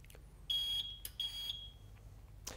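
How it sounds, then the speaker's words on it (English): Two high electronic beeps from a Marco SP9 coffee brewer, each sustained about a third of a second, with a short pause between, followed by faint clicks in a quiet room. "Hold down until I get 3 beeps."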